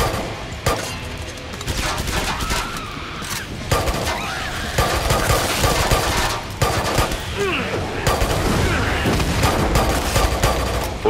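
Dense gunfire in the video game Killing Floor 2: rapid bursts of automatic shots and booming blasts with clanks of reloading, loud and nearly continuous, with speech.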